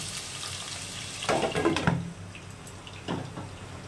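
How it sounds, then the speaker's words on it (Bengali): Potatoes fry in oil with a soft, steady sizzle, broken by a few louder bursts of stirring and spattering. "আলুটা লাল করে ভেজে নেব।"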